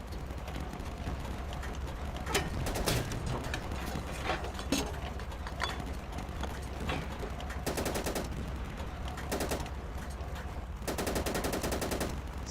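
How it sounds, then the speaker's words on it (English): Machine gun fire in the video game Easy Red 2, set in France 1940, comes in several sharp bursts of rapid shots separated by pauses, loud against a low background rumble. "So we got it on machine gun."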